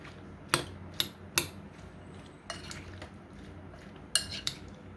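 A knife slicing a boiled egg for a diet salad on a plate, heard as a few sharp, close clinks of metal on dishware with quiet rustling between them.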